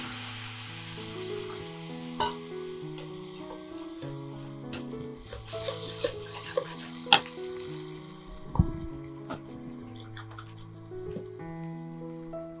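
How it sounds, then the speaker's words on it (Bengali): Spice paste of chili powder and Kashmiri turmeric frying in a pan, giving a soft, steady sizzle with occasional stirring scrapes and light clinks, heard under background music. "এবার এটাকে ভালো করে কষিয়ে নেব।"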